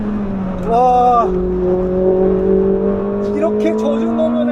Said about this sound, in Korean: 이렇게 젖은 노면에서 앞쪽에 브레이킹 할 때 타이어 스킬 노이즈가 들리는 거 들으셨어요?